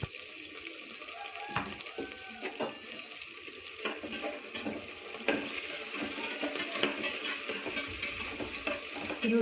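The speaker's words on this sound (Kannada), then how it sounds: "ಈರುಳ್ಳಿ ಸ್ವಲ್ಪ ಫ್ರೈ ಆಗಲಿ" Onions fry in a pan at home, a soft sizzle with stirring scrapes and occasional clinks, steady and close, building slightly louder toward the end.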